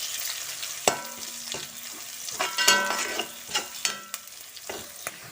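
Onions, green chillies and curry leaves fry in a pan for a pork roast, giving a soft continuous sizzle. A spoon scrapes and clinks against the pan in irregular strokes close by.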